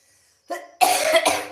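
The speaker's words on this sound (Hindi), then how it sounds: "खांसी की।" A brief throaty sound, then two forceful coughs in quick succession, loud and close.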